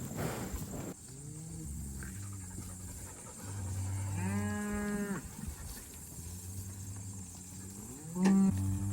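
Cows moo repeatedly in long, low calls from several animals while being called in on pasture, some near and some farther off, with a few overlapping bellows and a brief louder bellow near the end.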